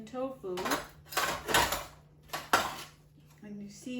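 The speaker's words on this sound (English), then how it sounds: "a spatula so that I can just toss the greens in with the hot beets and tofu" A spatula scrapes and clatters in a hot pan, tossing greens with roasted beets and tofu, giving a few bursts of metallic scraping and clanking, with talk in between.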